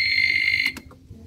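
Yamaha NMAX motorcycle alarm on a 2020 model, set to its low-volume key mode, gives a loud steady electronic tone that cuts off partway through, followed by a couple of short clicks.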